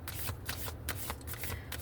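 Moonology oracle cards are shuffled by hand in a quick, continuous riffle of papery flutters and soft slaps, close and steady for under two seconds with no speech.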